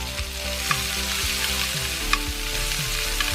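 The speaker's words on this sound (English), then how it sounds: "saute the onions." Onions sautéing in a cast iron pan: a loud, steady sizzle with repeated scraping stirs and occasional utensil clicks, close by and with no talking.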